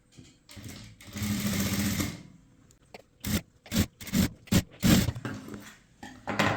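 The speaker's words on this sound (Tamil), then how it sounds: "இப்போ லைனிங்கோடு சேர்த்து ஒரு தையல் போடுங்க" A sewing machine stitches through blouse fabric and its lining, running in one steady whirring stretch before breaking into a string of short, loud, choppy bursts as the stitching starts and stops.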